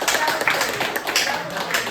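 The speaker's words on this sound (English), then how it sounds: "Let's give them a round of applause." An improv theater audience at the PIT Annex claps after a scene, a short burst of dense, fairly close applause with no speech over it.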